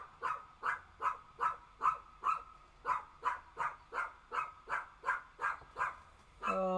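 A dog barks repeatedly in a steady rhythm, about fifteen sharp barks at moderate distance, followed by a brief higher yelp at the end.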